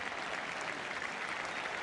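A Yorkshire cricket crowd at a Test match against Australia applauds Geoffrey Boycott's hundredth century, steady dense clapping that fills the whole stretch without a break.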